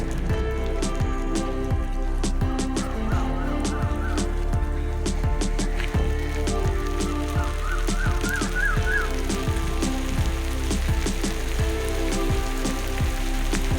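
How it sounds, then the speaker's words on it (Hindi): Steady heavy rain patters and drips all around a mud house in Pakistan at close range, a constant dense hiss with scattered sharper drops and faint chirps in the background. "बारिश तेज़ हो रही है"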